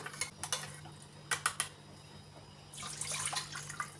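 A spoon stirs yeast and sugar into warm milk in a bowl, making a few quick light clinks and scrapes, then a soft sloshing swirl, close but quiet.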